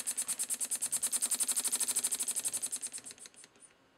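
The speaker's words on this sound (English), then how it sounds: "number 24 beam engine designed by Elmer Verburg" A small Elmer Verburg number 24 model beam engine runs with a fast, even ticking chuff, each stroke a crisp close puff, then gradually slows and fades out as it coasts to a stop.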